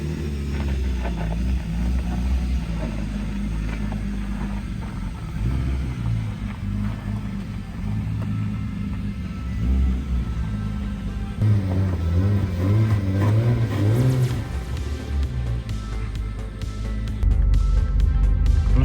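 Car with a tuned BMW M50B28 engine on a drive, its engine droning and rumbling steadily with rising and falling revs, close and fairly loud throughout, with no talk.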